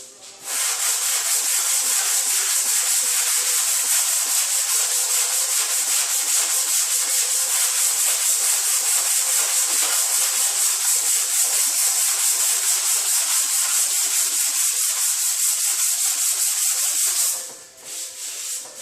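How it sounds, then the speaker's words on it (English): Steady, even rubbing of sandpaper on body filler across a 2010 Honda Civic sedan fender, a continuous close scratchy hiss that runs without pause for about seventeen seconds, then briefly stops and resumes, with no talking. "I'm going to sand this all the way back, almost too far, because I know I have to put another layer on it."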